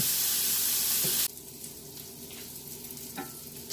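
Linguiça sausages browning in a pan for feijoada, a quiet, steady sizzle after a loud hiss that cuts off abruptly, with a few soft utensil taps.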